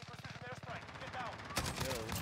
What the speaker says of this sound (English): We're gonna bring it back using the scar H, the best gun in the game.